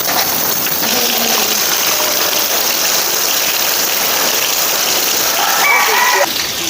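Steady rain falls in a rural Thai setting, a continuous broadband hiss throughout, with brief faint rooster-like calls and other sounds over it.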